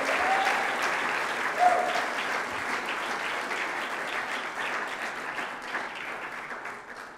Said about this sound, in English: I want to just give them a round of applause